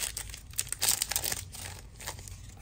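A sealed 2023 Topps Chrome Sapphire Star Wars Return of the Jedi trading card pack is torn open, giving close, quiet crinkling and tearing of the foil wrapper in short irregular bursts.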